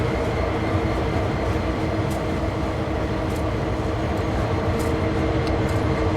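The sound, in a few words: trains passing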